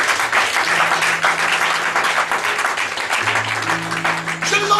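A church congregation applauding: loud, steady clapping from a large crowd over a sustained organ or keyboard chord, with no break for its whole length.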